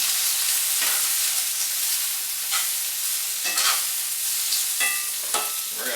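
Seasoned chicken, salted and peppered with garlic powder, sizzles and hisses in a hot frying pan while a utensil stirs it, with several distinct scraping knocks across a steady frying crackle and no voices.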